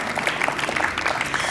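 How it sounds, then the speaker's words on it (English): Audience at the Eurovision Song Contest 2012 ceremony applauding the competing countries, a dense, loud burst of many hands clapping together with no pause. "I would offer to make one big, mighty applause for all the countries in this year's song contest"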